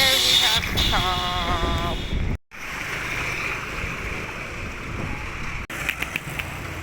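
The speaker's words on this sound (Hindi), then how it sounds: "इतनी ज़्यादा हवा चल रही है।" Strong wind blowing outdoors, roaring and buffeting the microphone in a steady, loud rush with two brief dropouts, and a short burst of voice near the start.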